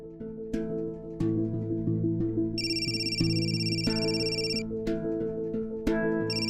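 A telephone ringtone plays as a steady electronic melody of sustained tones with a bright, high chime layer coming in and out, continuous and fairly loud with no talking.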